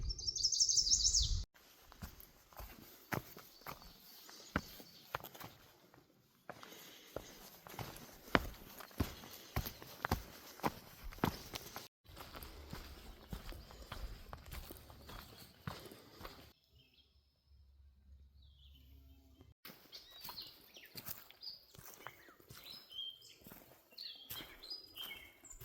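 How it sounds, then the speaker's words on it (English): Birds chirp busily along a mountain trail in the Appalachians, their calls scattered and moderately near over rustling footsteps and outdoor background noise, with no talking. "Very chatty birds."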